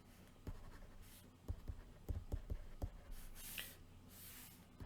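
Chalk or marker strokes on a board while divergence of a vector field is explained, a run of short taps and scratches in quick bursts, moderately close against a quiet room.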